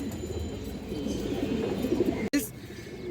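Muslodom breed pigeons cooing, several low throaty coos building over a murmuring background with a brief abrupt cut.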